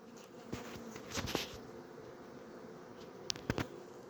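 Honeybees hum softly at an open hive during an inspection, a low steady drone with a few brief louder buzzes as individual bees pass near.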